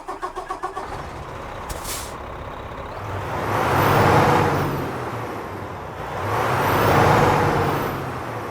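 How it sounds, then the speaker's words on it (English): A Kenworth T680 Next Gen truck engine in American Truck Simulator cranks with rapid pulsing, a short hiss of air follows, then the engine catches and revs up twice in deep swelling roars. "let's get this Kenworth T680 Next Gen started up and get on the road"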